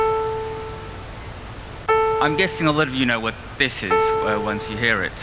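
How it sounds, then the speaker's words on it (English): A single piano note rings out and slowly decays, then sounds again twice, its steady tone continuing underneath someone talking. "what you're hearing is a note of a piano"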